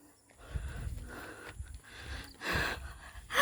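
A hiker panting while climbing uphill on a mountain trail: close, uneven heavy breaths and gasps, with rustling and footstep noises.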